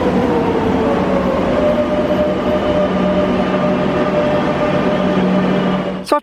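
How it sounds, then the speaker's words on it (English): Steady, loud rumble of a Madrid metro train in motion, heard from inside the carriage with continuous rail roar and faint wheel hum throughout, ending in a brief clatter. "a short 15-minute ride on the metro"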